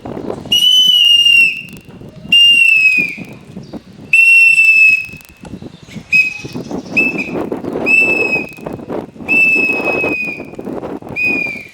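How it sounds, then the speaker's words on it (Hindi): A police officer's whistle is blown in a series of about seven loud, shrill blasts, some long and some short, with rustling and clattering between them. "जब तक हमारा सीटी बजेगा तब तक हमारा ड्यूटी चलेगा, इसलिए हमारा सीटी बजता रहेगा"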